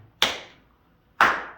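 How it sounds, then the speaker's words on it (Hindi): Two sharp hand claps about a second apart ring out inside the old stone Deogarh fort in Chhindwara, each followed by a short decaying echo in the empty interior. "यहाँ ताली बजा कर"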